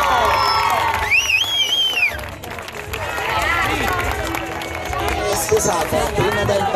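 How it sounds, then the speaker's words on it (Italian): A crowd on a beach cheers and whoops during a marriage proposal, with a few high shouts and clapping mixed into lively chatter throughout. "La risposta? Un applauso!"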